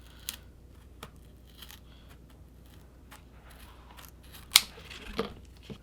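Scissors cutting a nylon battle belt to length, a few quiet snips and then a sharper cut near the end, close, with no talk.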